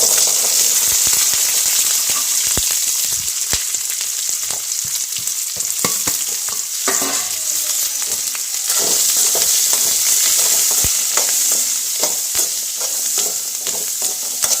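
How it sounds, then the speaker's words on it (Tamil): Loud, dense crackling and spattering as fennel seeds, garlic, onion, curry leaves and turmeric temper in hot oil for a pepper curry, with sharp pops throughout and occasional stirring. "இப்போ தாளிப்பு கொடுத்துடலாங்க"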